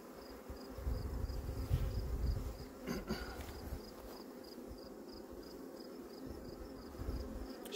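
Bees buzz steadily around a hive on a small farm where horses and chickens are also kept, with a soft continuous drone and occasional louder passes close by.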